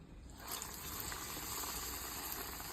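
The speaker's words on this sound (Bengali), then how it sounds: "তো এইভাবে আমি সব ভেজে নিছি আর কি" Rolls deep-frying in hot oil give off a steady, even sizzle and bubbling hiss that stays constant from start to finish, with no voices.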